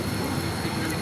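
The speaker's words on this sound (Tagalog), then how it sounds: "Ayan yung LRT papuntang Antipolo." Light rail train at a Recto station in Manila, bound for Antipolo, a steady broadband rumble of the passing railcars with no distinct clacks, continuous and fairly close for about a second.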